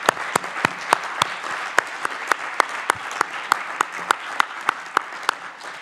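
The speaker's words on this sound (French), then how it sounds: "je pense qu'on peut peut-être chaleureusement les applaudir" Sparse audience applause, a handful of distinct claps landing at a loose, steady pace over a soft background.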